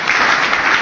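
Brief burst of enthusiastic audience clapping at a gathering, dense and steady for under a second, loud and close.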